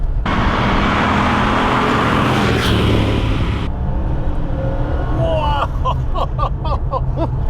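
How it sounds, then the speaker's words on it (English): A Porsche 930 Turbo accelerates hard, a loud, dense engine roar that cuts off abruptly partway through, followed by quieter whistling and chirping bursts as the turbo spools and blows off, with a voice heard faintly. "There's the turbo."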